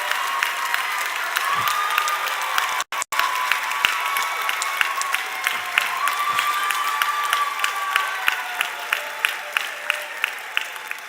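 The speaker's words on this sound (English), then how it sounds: "Shouldn't we ask them to cheer again?" A graduation audience bursts into sustained, loud applause with scattered cheers, a dense steady patter of clapping that fills the hall for the whole stretch.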